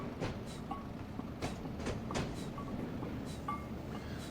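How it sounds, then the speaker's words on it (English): Train running on the Wherry Lines railway, a steady rumbling roll close by with faint intermittent clicks and squeals over the track throughout, no talking. "Let me know if the train noises are a bit too loud or anything like that."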